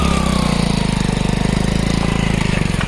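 An off-road vehicle idles on a rocky forest track in Rajaji National Park. The engine gives a loud, close, steady chugging throb with rapid regular pulses throughout, and no one talks.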